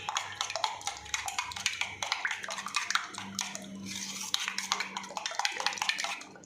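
Eggs being beaten with pepper, salt, turmeric, coriander and mint, with steady rapid clinking and scraping of a utensil against a bowl amid faint kitchen background hum.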